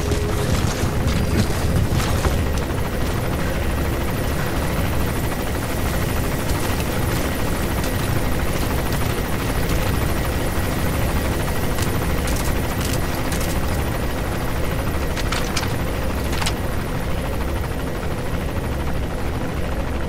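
Helicopter in the Metal Gear Solid 5 video game, a steady loud rotor and engine roar filling the whole stretch without letup, close and constant, with faint sharp clicks scattered over it.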